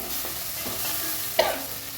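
Tomatoes sauté in a pan while a spoon stirs them, producing a steady close sizzle with a few scraping strokes and one sharper clatter, and no talking.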